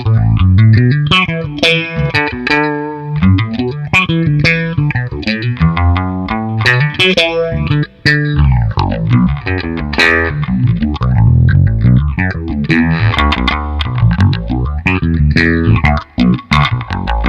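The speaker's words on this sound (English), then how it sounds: "you can take the phaser sounds available in the bass envelope filter and get yourself a phaser pedal just by using a slow LFO" Electric bass played through a Source Audio Soundblox Pro Bass Envelope Filter pedal set to a phaser with a slow LFO gives a loud, distorted, sweeping bass line with dubstep-style wobbles, continuous and unaccompanied by talk.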